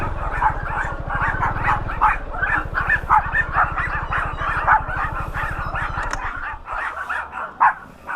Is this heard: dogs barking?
yes